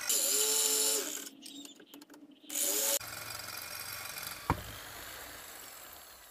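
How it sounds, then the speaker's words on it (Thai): An electric drill bores through steel with two close bursts of high, shrill whining separated by a brief pause, followed by a quieter steady whir and one sharp knock. "เรามาเริ่มทำการเจาะสว่านกันเลยครับ"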